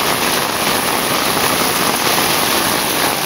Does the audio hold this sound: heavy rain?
yes